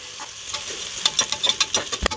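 Onion sautéing in hot oil for a beef gravy, a close hissing sizzle punctuated by a rapid series of stirring scrapes and taps in the second half; no voices.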